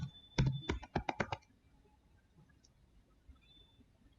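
A quick burst of about eight crisp keystrokes on a computer keyboard, close and clear, during entry of a username and password, followed by near silence.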